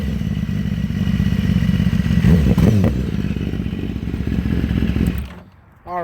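A 2018 BMW S1000RR motorcycle engine idles and is revved nearby, a loud low steady rumble with a brief rising rev and mechanical clatter before it cuts off abruptly near the end.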